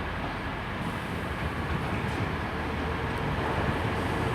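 A Class 185 diesel passenger train on the Hull to Manchester Piccadilly service arrives at Huddersfield station, giving a continuous low rumble and rolling noise at moderate volume throughout, with no talk.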